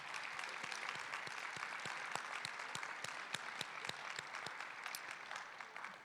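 An audience at a valedictorian ceremony applauds school principals on National Principals Day, a broad, sustained wash of clapping from a large crowd, heard at a distance and fairly faint.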